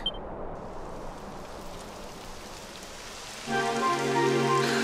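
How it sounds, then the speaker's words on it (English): Steady video game rain hisses as a dense, even wash of falling drops, continuous throughout, with a musical tone joining near the end. "It would have to go and start raining, wouldn't it?"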